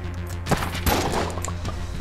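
Shotgun blasts from a Shotgun Kin enemy in Enter the Gungeon, two sharp, fairly loud bangs over a steady game soundtrack.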